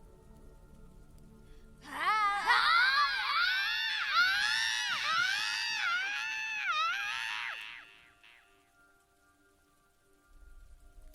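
A monstrous, bestial shriek for the Skull Kid in a dramatized audiobook: a long, high, wavering screech that pulses for about six seconds over a hissing backdrop, then cuts off into near silence.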